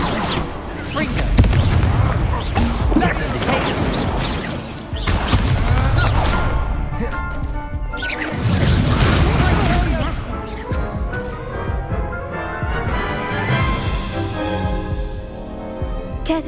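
Repeated Confringo fire spell blasts in the Hogwarts Legacy video game, a series of loud booming impacts and crashes in bursts across the clip, with game music and effects and some voice sounds mixed in.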